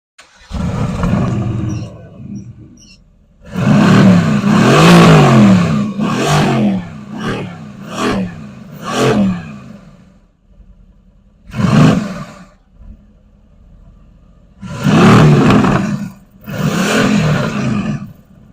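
A Mercedes-AMG GT C, heard from behind the car, revs in a series of loud, throaty bursts with short pauses between them and no talking.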